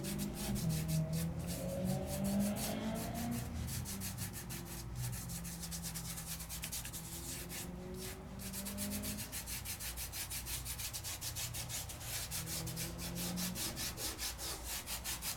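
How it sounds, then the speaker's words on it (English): Glitter is rubbed by hand across an embossed paper craft piece, making a steady, close, dry scratching and brushing texture that continues without a break for the whole stretch. "Now I'm just gonna move that glitter kind of all over and see where it sticks."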